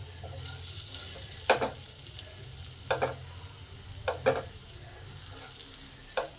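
Potato pieces fry in oil that sizzles steadily in a pan while a utensil scrapes and stirs in several short bursts; no voices.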